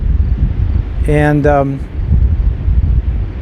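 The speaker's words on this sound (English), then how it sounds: "The occasional gusts that come in are very, very strong." Strong wind buffets a camera microphone in low rumbling gusts, with a short spoken word in the middle.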